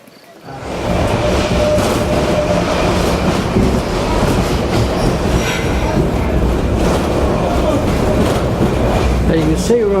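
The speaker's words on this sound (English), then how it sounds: "And you can see we're on a funicular railway." Steady, loud rumbling and rattling of a funicular railway car in motion, continuous rolling noise with faint squeals and clatter.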